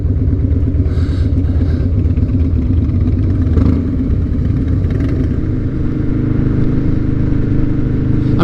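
Harley-Davidson motorcycle fitted with straight pipes, a loud, close, rumbling engine held at a steady idle with slight throttle variations throughout, with no talk.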